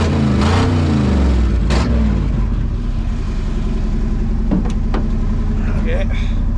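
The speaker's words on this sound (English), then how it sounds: "Well, we're still idling here." A 1979 Ford F150 engine idles steadily with a loud, low rumble throughout, along with a few brief knocks and clunks.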